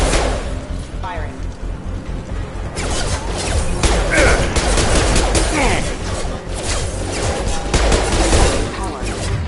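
Rapid bursts of gunfire and crashing impacts in a Mass Effect 2 firefight against security mechs, loud and continuous with whooshes and thuds, while game voices speak over the action.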